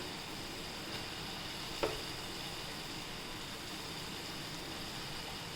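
Soaked toor dal frying with onions in a pan for shepu bhaji, a faint steady sizzle with one brief clink of a utensil, quiet throughout and with no voices.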